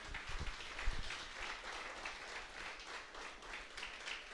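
A church congregation applauding, steady dense clapping at moderate distance and fairly quiet, continuing evenly throughout.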